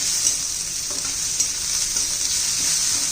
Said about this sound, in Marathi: आता यातच आपण आलं आणि लसूण घालून घेऊया, म्हणजे कांद्याबरोबर चांगलं परतून निघेल.